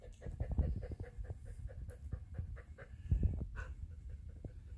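A dog pants rapidly and close by, quick rhythmic breaths with a few soft whimpers mixed in, no talking.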